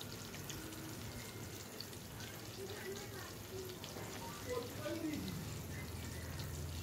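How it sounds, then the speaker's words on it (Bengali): Pointed gourd (potol) pieces frying in oil for a devotional food offering give off a soft, steady sizzle and crackle at a low level throughout, with faint stirring and a voice talking over it. "আর এদিকে পটলগুলো ফ্রাই করে নিচ্ছি ভোগের জন্য।"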